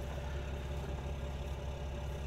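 A Massey tractor engine, likely in a farming video game, drones with a steady low vibrating hum, a continuous even rumble at moderate level with no speech over it.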